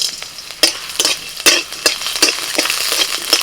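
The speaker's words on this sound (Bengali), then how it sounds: "কড়াতে সামান্য পরিমাণে তেল দিয়েছি আর ওর মধ্যে দিয়ে দিচ্ছি আদা রসুন গোটা গোলমরিচ" Ginger, garlic and whole black peppercorns fry in a little oil in a wok, giving a bright continuous sizzle with frequent close scraping stirs of a spatula at an irregular rhythm.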